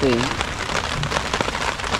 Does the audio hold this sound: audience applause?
no